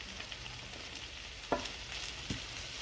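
Scrambled eggs and potatoes sizzle quietly in a pan with a steady crackle, with two brief clinks of a utensil stirring partway through.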